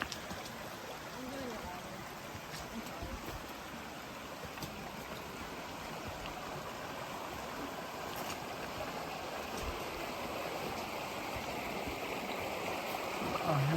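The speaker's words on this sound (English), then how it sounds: "along this nice little creek" A steady rush of flowing water from a nearby creek along the Appalachian Trail, continuous broadband babbling that swells slightly louder toward the end.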